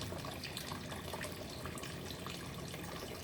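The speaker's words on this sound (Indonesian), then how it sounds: "Kita kuras airnya, yang bagian bawah biasanya ada kotorannya atau amoniaknya kan" Water draining from a catfish pond, a steady close rush of flowing water that holds evenly throughout with no voices.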